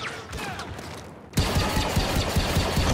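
Rapid automatic gunfire in the Star Wars Battlefront 2 video game, quieter shots at first, then a dense loud burst of repeated shots with a fast rhythm that carries on to the end.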